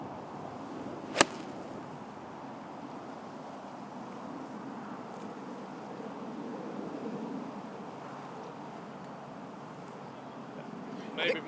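A golf driver strikes the ball on a drive with one sharp, crisp crack near the start, loud against a soft outdoor hush, followed by quiet open air.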